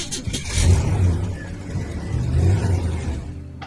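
A car engine in the game Kathy Rain 2 turns over and rumbles up twice, a low, steady revving surge swelling around the first second and again near two and a half seconds, alone with no talk.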